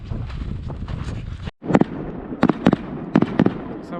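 Fireworks and firecrackers go off on New Year's Eve in Nuuk, Greenland, in icy winter conditions: a steady crackle and rumble, then after a brief gap a series of sharp, loud bangs in irregular bursts, with no talking.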